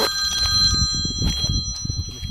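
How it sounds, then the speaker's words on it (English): A mobile phone rings out in a windy hazel coppice woodland, a steady electronic tone running over rustling background and brief handling noise. "Now my phone's ringing, so I'll answer this first."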